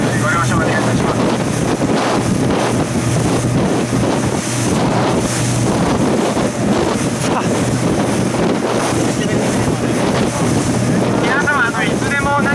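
Cruise boat from the Japan Coast Guard Academy motoring across a choppy sea on a rough day, with steady loud engine drone, wind buffeting the microphone and waves slapping the hull throughout.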